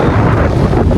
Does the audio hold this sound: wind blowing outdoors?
yes